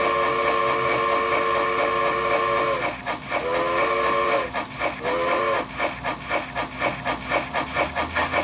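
A model train soundboard sounds a steam whistle in sustained blasts, then shorter toots, over a continuous mechanical hum and rhythmic chuffing that takes over toward the end.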